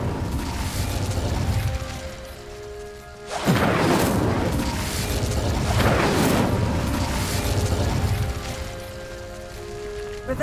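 Incendio fire spell cast in Hogwarts Legacy: a sudden whooshing burst of flame that swells loud, then several more bursts follow in quick succession over steady game ambience.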